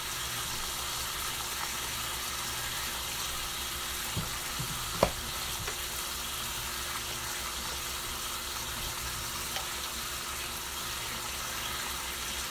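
Frozen meat fries in a pan with a continuous, even sizzle throughout, broken once by a single metallic clink near the middle.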